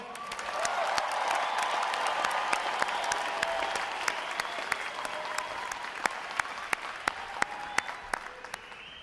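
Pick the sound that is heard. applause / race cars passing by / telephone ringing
applause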